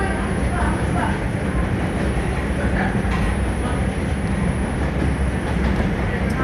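A New York City 5 subway train rides between stations in the Bronx, giving a steady, loud interior rumble of rails and car body throughout, with faint wheel clatter and no break in the noise.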